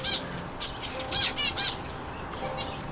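Several birds flap their wings in a cramped temporary summer aviary, with a few quick bursts of fluttering close by and a faint chirp or two in between.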